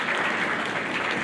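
A large audience applauds at a school academic awards ceremony. The clapping is dense and continuous and fills the room for a brief moment.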